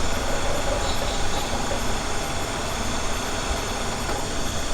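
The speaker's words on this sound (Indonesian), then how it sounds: "Oke, kita matikan mesin" A vehicle engine runs steadily in a forest, a loud, constant low drone with no talk over it.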